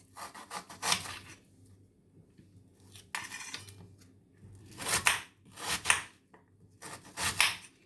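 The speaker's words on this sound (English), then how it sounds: "So I'm just going to just give my onion a quick dice." A knife quickly dicing an onion on a wooden board while green Caribbean seasoning is prepared: bursts of rapid, crisp chopping strokes come in several separate runs, close and fairly loud, with quiet gaps between them.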